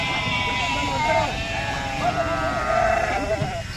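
Several sheep being unloaded at a market bleat repeatedly and loudly nearby, overlapping calls over a background of murmuring voices.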